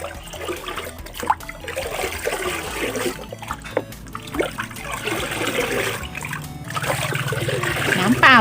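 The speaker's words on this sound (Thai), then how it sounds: "คนส่วนผสมให้เข้ากันเลยนะคะ" A liquid fertilizer mixture for ornamental flowering plants being stirred, with swirling, trickling water and splashes close by while someone talks over it, the sloshing growing louder toward the end.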